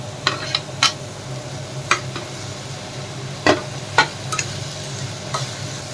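Onion, tomato and green chilli sauté in a pan with a low continuous sizzle, broken by a few sharp clinks and scrapes of a spoon stirring against the pan.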